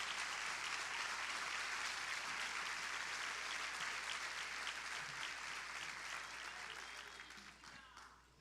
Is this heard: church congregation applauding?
yes